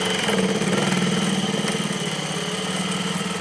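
A sewing machine runs a side seam on children's clothing, giving a continuous close mechanical hum with a fast fine pulse, steady and loud from start to finish.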